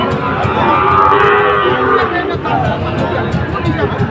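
Sahiwal bull calves at a busy cattle market, with close, loud lowing and mooing over a steady crowd hubbub, while people talk nearby.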